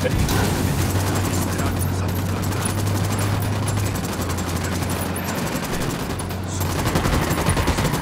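Constant rapid gunfire fills Ghost Recon Wildlands as a night ambush on a cartel truck convoy unfolds, dense overlapping shots with an M40 sniper rifle and MDR rifle in play, loud and continuous with voices underneath.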